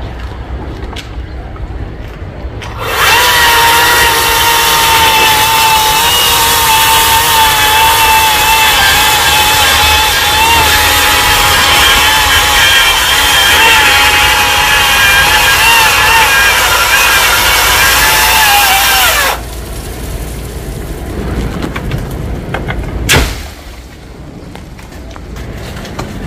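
A saw cuts through a coconut tree trunk into logs, a loud, steady, continuous grinding roar that lasts about sixteen seconds, with quieter outdoor ambience before and after.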